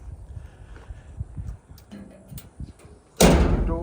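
A homemade 48 by 48 vertical smoker door clunks and scrapes open after soft handling thumps, ending in a louder metallic rush of noise near the end.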